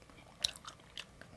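Faint, close chewing of Domino's cheeseburger pizza: a few soft bites and crunchy mouth sounds scattered over a quiet moment.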